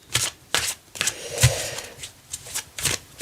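A tarot deck shuffled close by in a handful of spaced, crisp papery bursts with a soft thump in the middle, and no voices.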